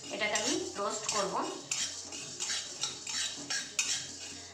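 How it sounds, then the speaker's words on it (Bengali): Metal utensil scraping and clinking against a hot kadai as spices are stirred and roasted, steady repeated scrapes and taps close up, with faint voice fragments underneath. "একটা সুন্দর গন্ধ বেরোনো পর্যন্ত এটাকে আমি রোস্ট করব"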